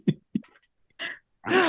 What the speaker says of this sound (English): I have to cough every time I laugh.